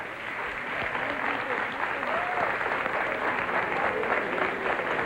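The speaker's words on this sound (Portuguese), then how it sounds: "Palmas para o Padre Quevedo também" A TV talk-show studio audience applauds steadily for about five seconds, a dense, even wash of clapping that holds at a constant level from start to finish.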